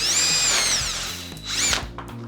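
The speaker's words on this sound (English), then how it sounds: "I've got one of the extensions for my socket set in the drill with the socket on the end of it." A power drill spinning a socket-set extension with a socket on the end, two loud whirring bursts with a brief dip between them, close up and without speech.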